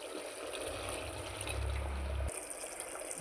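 One and a half cups of water poured into a pot of Chettinad biryani, a steady rushing pour with a low gurgle that stops abruptly, close and continuous with no talk.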